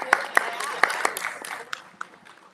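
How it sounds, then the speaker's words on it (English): A few people in an audience at a spring research competition clap sparsely and unevenly, with distinct individual claps over quiet voices talking in the room. "We can clap. Yeah, we like to clap."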